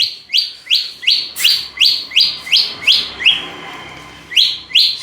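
A caged manyar weaver bird, trained on canary and lakbet song, sings a rapid series of about a dozen bright, sharp chirps in steady rhythm, close and clear, with a brief pause before the last few notes.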